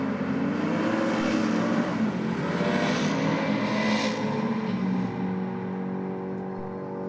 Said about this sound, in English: Didn't sound like he was full throttle on the launch there